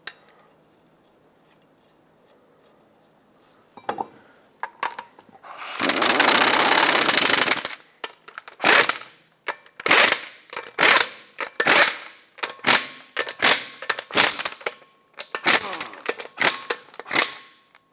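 Wheel lug nuts on a 2014-2021 Mazda 6 being tightened in a cross pattern: a sustained burst of impact-gun rattle, then a long series of sharp, evenly spaced ratcheting clicks, close and without talk.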